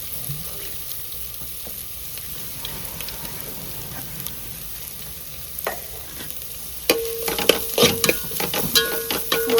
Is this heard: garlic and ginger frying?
yes